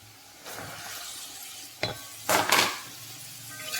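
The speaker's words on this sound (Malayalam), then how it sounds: "ഇതിലേക്ക് നമ്മൾ ഈ വെണ്ടയ്ക്ക കൊട്ടുകയാണ്" Okra is tipped into a pan of boiling chili mixture for a Kerala-style stir-fry. A metallic clatter of pan and utensil comes first, followed by a couple of loud bursts of sizzling as the pieces hit the hot liquid.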